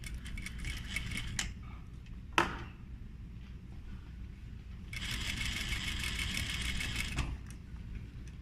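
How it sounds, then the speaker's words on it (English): A sewing machine stitches a zipper, with a short run early on, a sharp click or knock at the lever, then a steadier, louder stitching run for about two seconds, close by, with light mechanical creaks between. "I'm going to start by stitching right there, and of course back stitch"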